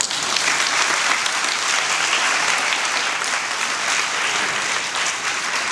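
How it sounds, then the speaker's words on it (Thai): A school audience at an art exhibition at Princess Chulabhorn's College breaks into loud, sustained applause, a dense wash of clapping from many hands that holds steady without a break. "พวกเราปรบมืออีกที่ด้วยครับ"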